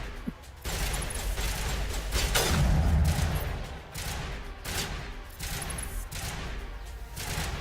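Sustained gunfire from the Mass Effect video game, a dense stretch of rapid shots with a heavy low rumble at its peak midway, near and loud throughout with no talk.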